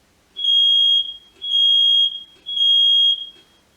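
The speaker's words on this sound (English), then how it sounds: "That's the fire alarm." Three long, piercing beeps from a smoke alarm sound in even succession, loud and close, with nothing else audible.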